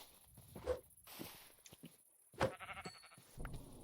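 Sheep in a Minecraft modpack game bleat a few times, in short, faint calls spread across quiet gaps. Light clicks and footsteps from the game play between them.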